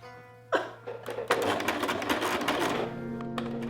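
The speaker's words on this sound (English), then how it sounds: "I don't think the sewing machine likes to sew through double-sided tape" A sewing machine sews through double-sided tape in a steady mechanical whir after a sharp thump, with rattling clatter and a low motor hum throughout.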